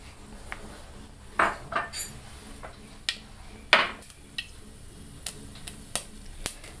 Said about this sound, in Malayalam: ചൂടായ എണ്ണയിലേക്ക് കടുക് ചേർക്കാം.